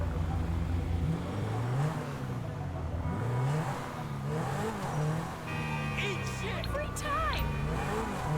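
A car driven in GTA Online, its engine revving and shifting with rising and falling pitch, tires occasionally squealing, while a voice talks over it throughout and chirpy game sounds enter near the end.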